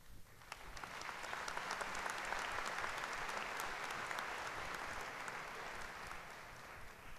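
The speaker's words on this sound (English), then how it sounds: "Thank you for that applause" A large crowd at a university spring commencement ceremony claps for an honorary degree speaker, a full, sustained wash of applause that swells quickly and stays broad and even throughout.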